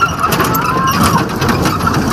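A road vehicle being driven home along a rain-soaked village road near Kohima, Nagaland, its engine a steady, fairly loud drone with no pauses.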